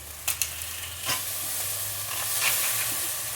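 Unpeeled garden garlic cloves dropped into a hot pan with browned lamb, two quick thuds and then a steady close sizzle with light hiss.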